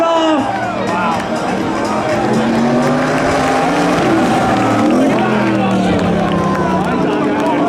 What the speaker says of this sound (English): Oh, McLaren's going in fast.